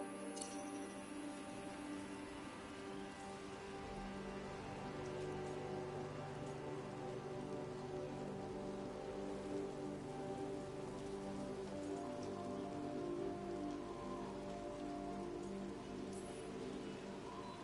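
Steady rain falls in the video game Dragon Age: The Veilguard, a continuous patter of drops on surfaces with faint ticks, soft and even throughout.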